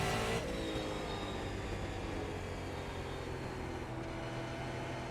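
A car turns laps on a track and brakes into a corner: a steady engine drone passes fairly close, pitch sliding downward as it slows, with no talk.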